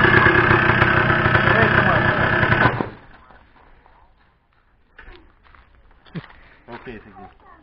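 A Yamaha DT180 motorcycle engine that has sat unused runs loud and rough at idle for about three seconds, then cuts out, leaving quiet handling noises and voices.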